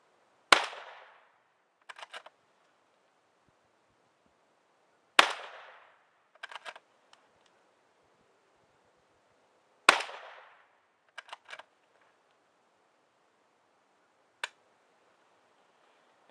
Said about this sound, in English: Take a couple more shots with iron sights on it.